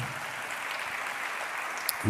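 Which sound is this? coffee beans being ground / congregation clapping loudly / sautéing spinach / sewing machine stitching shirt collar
congregation clapping loudly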